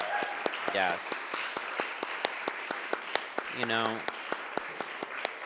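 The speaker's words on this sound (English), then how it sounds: "Let's get a round of applause for Lahore Bajistan." A crowd at an award event gives a round of applause, with steady scattered clapping running throughout while voices speak and shout over it.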